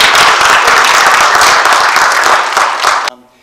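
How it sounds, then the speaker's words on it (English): An audience at a meeting gives panelists a dense, loud round of applause that holds steady for about three seconds, then cuts off abruptly. "Please give a round of applause to our"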